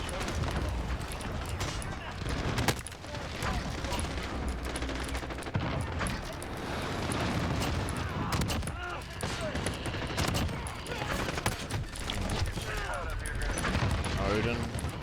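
Rapid gunfire from a shooter video game, with bursts of shots crackling continuously throughout, dense and loud, layered with game effects and someone talking over it.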